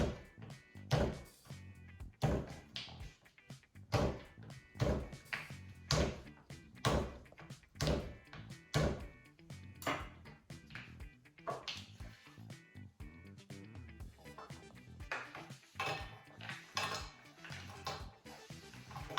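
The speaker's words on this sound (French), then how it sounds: "je commence par casser le chocolat. Je vais le mettre en petits morceaux dans le poêlon" Chocolate snapped by hand into small pieces and dropped into a small cooking pan, making a steady run of sharp cracks and light clatters, close and moderately loud, with no talking.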